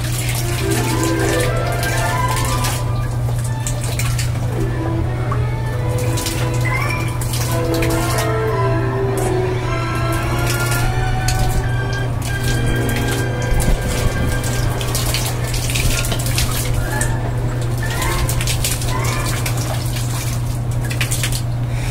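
A homemade water fountain splashes continuously at close range, a steady wash of falling water with a constant low hum underneath, heard alone throughout.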